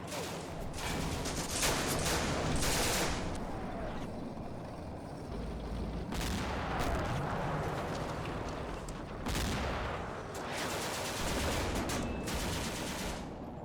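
Gunfire in the WWII wargame Combat Mission: Afrika Korps, with bursts of rifle and machine-gun shots crackling over a steady rumbling background, several volleys spaced across the stretch and heard at moderate distance.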